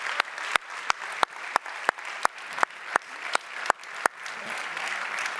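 Summit audience applauds the panel, with sharp, evenly spaced rhythmic claps in unison ringing out over a softer bed of scattered clapping that continues after the beat fades.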